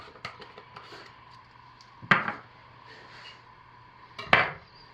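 Mica colorant being stirred by hand into cold process soap batter, soft scraping and tapping of a utensil against a container, with two sharper knocks standing out over a quiet background.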